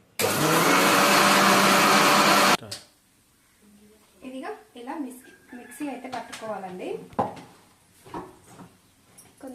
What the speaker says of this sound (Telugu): దీన్ని ఇప్పుడు మనం మిక్సీ పట్టుకుందాము